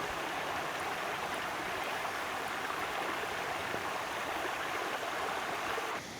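Swollen river floodwater rushing past in a steady, loud, broadband roar that stays constant throughout and drops slightly at the very end, with no voices.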